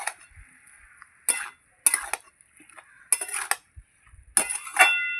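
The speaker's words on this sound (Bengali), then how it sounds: "একটু নেড়ে চেড়ে দেবো।" A spoon clanks and scrapes against a cooking pot while vegetables with spinach are stirred, coming in four or five separate loud bursts of metallic rattling with short quiet gaps between them.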